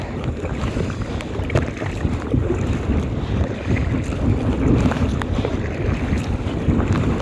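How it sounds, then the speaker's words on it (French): Steady, roaring wind buffets the microphone throughout while kayaking on the St. Lawrence River, a dense low rumble with splashing water and boat noise mixed in, no voices. "Oh putain, le vent il se lève en plus."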